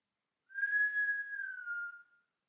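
A single clear whistled note from a person, held steady for about a second and a half before sliding slightly lower and fading, heard close and alone in an otherwise quiet space.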